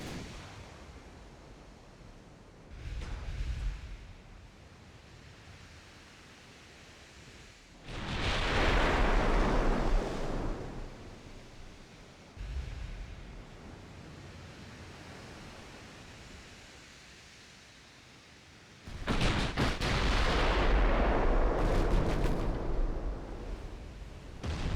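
Numerous 6-inch secondary naval guns firing in a naval warfare game, heavy booming blasts rolling into long rumbling roars, two big sustained bursts and smaller thuds between, loud and unaccompanied by speech.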